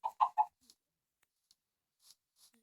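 Three quick, close clucks from a chicken in a row, followed by near silence with a few soft scratches and rustles.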